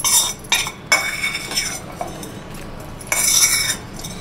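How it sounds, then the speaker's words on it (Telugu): A spoon scraping and clinking around a bowl while an onion tempering mixture is stirred into yogurt for raita, with repeated close strokes that grow louder near the end and no speech. "చల్లారిన తర్వాత పెరుగులో వేసి కలుపుకోవాలి"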